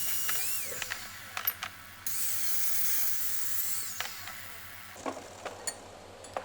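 A grinder works the edges of a metal part, a steady high whine broken by short scraping contacts and brief pauses, moderately close, with no speech.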